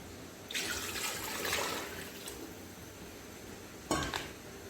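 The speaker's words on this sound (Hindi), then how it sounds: "जितना हमारा चावल होगा उसके डबल में पानी डालूंगी" Water is poured into a cooking pot for a beef and chickpea rice pulao, a splashing rush in two bursts with quiet kitchen background between, and no talking.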